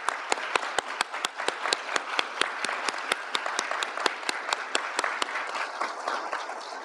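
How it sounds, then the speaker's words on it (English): An audience at the Charles Widger School of Law honors convocation applauds honors graduates, with sharp distinct claps standing out in a quick rhythm over a softer continuous bed of applause. "Please join me in a round of applause to congratulate these students."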